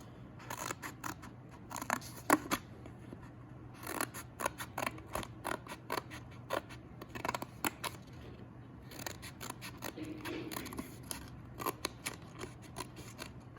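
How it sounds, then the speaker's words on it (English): Scissors snip through paper for an architecture pop-up card in a steady series of short, crisp cuts, quiet and close, with brief pauses between strokes. "Go ahead and cut the next 4 lines."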